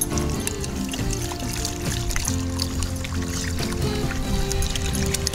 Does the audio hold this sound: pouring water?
yes